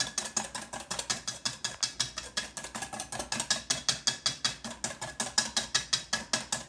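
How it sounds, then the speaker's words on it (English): Egg white mixture with spices is whisked in a bowl, giving a fast, even run of close, sharp clicks and scrapes, quite faint, with no talking. "And I whisk it till it's all combined."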